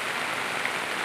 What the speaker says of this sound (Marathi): बघू शकता, खूप भयानक पाऊस आहे.